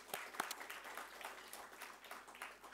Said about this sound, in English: So big round of applause for him, ladies and gentlemen.